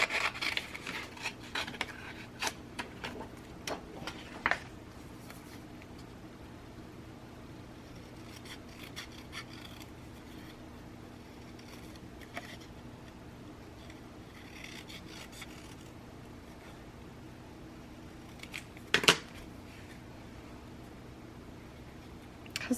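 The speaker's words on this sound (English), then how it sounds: "I'm just going to roughly cut it out." Scissors cut roughly around a paper sheet for card-making, a faint, quiet rasping and rustling that runs throughout, with a few sharper snips and paper rustles near the end.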